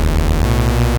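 A Reese bass built from two detuned saw waves in the Vital synth, a loud, buzzing sustained tone that shifts pitch twice before cutting off abruptly, with no voices.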